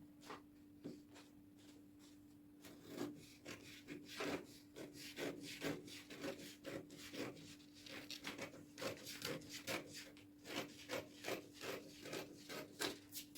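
Scissors cut fabric for a blouse yoke in close, repeated rasping strokes that come in an uneven rhythm. A steady low hum runs underneath.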